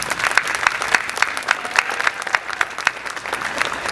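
Applause from a gathered audience at a police precinct dedication for the Newark Police Department: steady, moderately loud clapping with distinct individual claps in a regular rhythm throughout.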